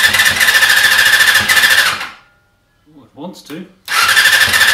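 A Honda CBR250R MC19 motorcycle engine running on a little choke: a loud, buzzy idle for two seconds cuts out, someone speaks briefly in the lull, then the engine catches and roars again.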